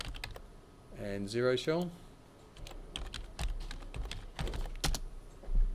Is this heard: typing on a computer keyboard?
yes